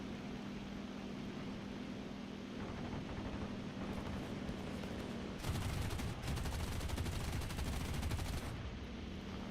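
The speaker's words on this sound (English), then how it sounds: "he's shooting at me" Gunfire from War Thunder combat, a dense burst of rapid automatic fire growing louder midway and holding steady for several seconds over a constant engine drone, with no talking.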